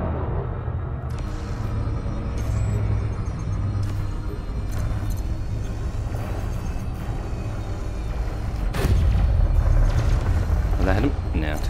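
Constant weapon fire from a Federal Corvette in an Elite Dangerous combat zone, a steady roaring, rumbling stream with sharp bursts layered over engine hum, loud and continuous throughout, with a voice talking over it.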